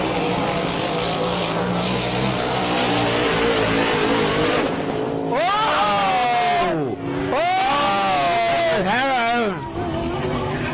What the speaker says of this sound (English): That didn't sound good, Storno. Blow a belt, we're saying